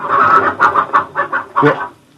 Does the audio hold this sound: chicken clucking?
yes